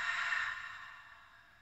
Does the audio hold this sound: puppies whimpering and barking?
no